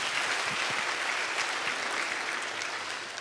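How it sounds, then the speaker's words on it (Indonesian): A church congregation claps steadily during a worship service, a dense wash of applause that stays full and even before tapering slightly at the end. "Berikan tepuk tangan kita untuk Tuhan kita."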